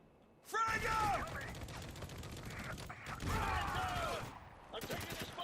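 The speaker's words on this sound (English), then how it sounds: "Give me some cover fire!" Video game gunfire from Spec Ops The Line: loud, sustained bursts of automatic fire in two long stretches with a short break, close and dense, mixed with game voices and effects.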